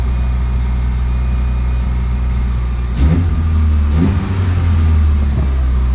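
A car engine fitted with a short ram intake idles with a steady low drone, then gets two brief throttle blips about a second apart; loud and close, no voices.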